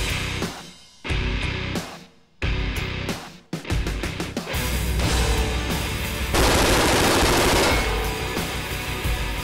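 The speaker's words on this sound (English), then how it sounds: "Now let's shoot the target." KRISS Vector firing .45 ACP incendiary rounds in sharp bursts, then a long sustained automatic stream, loud and close with a roaring blast at the end, no talk.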